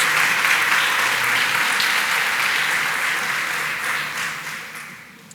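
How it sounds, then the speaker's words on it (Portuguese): A church congregation applauds during a Portuguese-language worship service, giving a full, sustained round of clapping that starts strong and gradually fades out. "Uma salva de palmas a Jesus"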